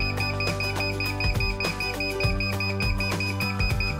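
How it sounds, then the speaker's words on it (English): An unconfigured SmartAP flight controller board beeps constantly, repeated short electronic tones in a steady pattern, close and clear, over low humming background. "You may hear constant beeping. This means that the board is not configured yet."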